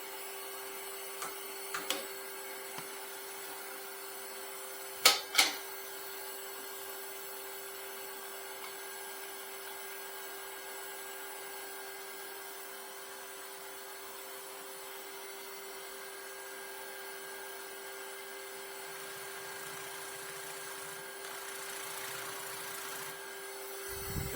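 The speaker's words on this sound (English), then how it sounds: "Vacuum on." A Laguna inverter dust extraction vacuum runs steadily with a constant droning whine throughout, broken only by a few brief clicks near the start.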